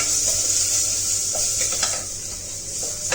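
Onions and fresh curry leaves sizzle steadily in a pan over medium heat, a continuous close frying hiss with occasional stirring scrapes and light clinks, no voices.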